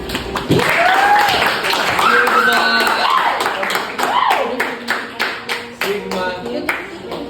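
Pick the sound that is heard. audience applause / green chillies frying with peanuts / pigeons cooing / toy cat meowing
audience applause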